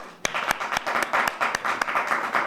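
Audience applause at a Breast Cancer Awareness Month proclamation ceremony honoring nurses: a dense, steady patter of many hands clapping, with a few sharper, louder claps standing out, continuing throughout.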